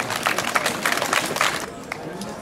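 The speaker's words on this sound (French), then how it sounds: "on peut applaudir également cette jeune fille qui se présente" Audience applause at a Miss Alsace 2013 candidate pageant, a steady mass of clapping with a crowd murmur underneath, fading out near the end.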